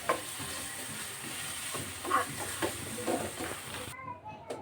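Coconut and spices sautéing in a pan, a steady sizzle with stirring scrapes throughout, a few brief voices in the background, ending in near quiet.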